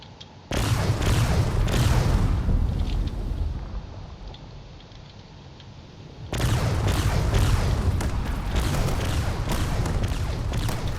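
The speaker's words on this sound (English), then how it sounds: "Lots of missiles going off around here." Missiles and shots exploding in a drone combat video game, heavy booming bursts that swell loud, ease off for a few seconds, then return in a dense sustained barrage.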